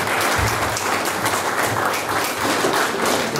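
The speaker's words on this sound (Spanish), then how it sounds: "Un voto de aplauso para el padre, por favor." Family and guests at a marriage proposal gathering applaud, a loud, close, steady patter of many hands clapping with a few heavier thumps and no speech over it.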